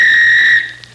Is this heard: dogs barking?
no